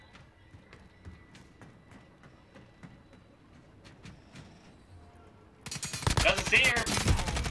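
Gunfire from a competitive shooter match, a loud dense burst of shots erupting near the end after quieter faint clicks and footsteps, with a commentator talking briefly.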